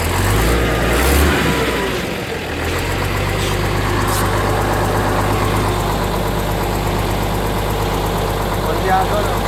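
A truck engine with a misfire runs and revs under uneven load, giving a loud, close, rough rumble with irregular knocking throughout, while people talk over it.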